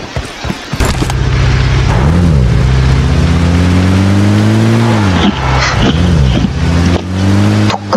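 A vehicle engine in the video game PUBG drones loudly and steadily, its pitch rising and dipping as it revs up and shifts, with a few short thuds and bumps over the top.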